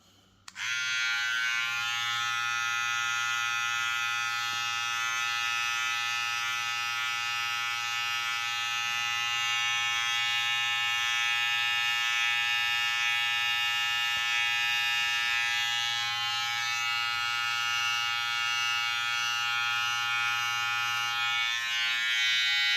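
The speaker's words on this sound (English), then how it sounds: "And this is how you turn your trimmer into a monster." A Kemei electric hair trimmer fitted with a PRITECH PR 2212A part runs continuously at close range, a steady loud buzzing hum that starts abruptly and holds evenly for about twenty seconds with no talk.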